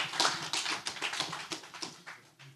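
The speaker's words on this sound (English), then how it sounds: "Can we have a round of applause for Philipp" Brief, fairly faint applause from a small audience at a panel talk on artist careers, a scattering of sharp hand claps that thins and fades over a couple of seconds.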